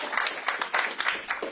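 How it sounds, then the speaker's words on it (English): Brief scattered clapping from a modest crowd at a community center announcement, a loose patter of separate hand claps with uneven rhythm, fairly close and unaccompanied by talk. "Yeah, you could clap to that."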